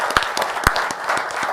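An audience at a Hofstra University Civil Rights Day morning session breaks into applause, a steady patter of many clapping hands with a few louder individual claps standing out.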